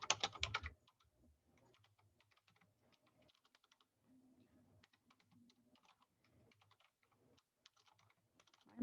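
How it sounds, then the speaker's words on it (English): Fast, uneven typing on a computer keyboard in an office, a loud burst of clatter at the start, then a steady run of faint key taps with a low hum underneath. "I'm having such trouble typing today"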